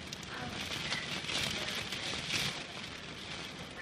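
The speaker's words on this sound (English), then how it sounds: "It's actually raining so much that you can't even see." Heavy rain pours down in a big, windy storm at the beach, a steady dense hiss with no letup, fairly loud and close throughout with no voices.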